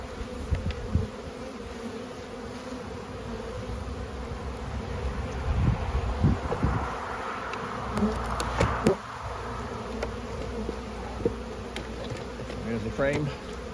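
Honey bees buzz around an open hive while frames are handled in the lower brood chamber, a constant dense drone with occasional closer passes and faint handling knocks.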